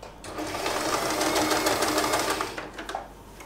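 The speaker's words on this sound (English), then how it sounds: "I sew a temporary stitch right here" A sewing machine runs a temporary stitch on a fabric hair bow, a steady close whirring burst lasting a few seconds before slowing to a stop.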